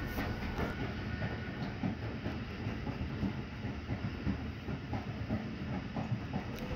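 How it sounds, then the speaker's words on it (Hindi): The Ravi Express passenger train runs along the railway track near Shahdara junction on the Shorkot to Lahore route, with a steady, loud rumble and a faint rhythmic clatter of wheels over the rails. "एक जो कि शोरकोट से लाहौर आई है जिस ट्रैक पे हमारी ट्रेन चल रही है"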